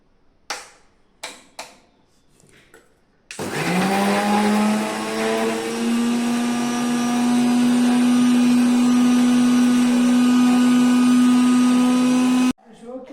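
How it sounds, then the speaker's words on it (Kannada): A mixer grinder blending cooked tomato masala with cashews, starting with a sharp whine that settles into a loud, steady motor drone for about nine seconds before it cuts off, with a few knocks and clicks just before it starts. "ಇವಾಗ ರುಬ್ಬಕ್ಕೆ ಸ್ಟಾರ್ಟ್ ಮಾಡೋಣ ಬನ್ನಿ"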